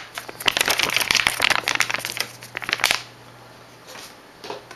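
A sheet of paper crinkles and rustles in quick, crisp bursts for about three seconds, close and fairly loud, then goes quiet apart from a faint rustle near the end.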